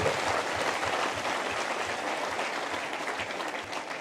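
Sustained, dense applause from an audience at a Dhundhar Talks stage discussion about Meenawati singers in Rajasthan, steady and fairly loud for the full stretch with no talking over it.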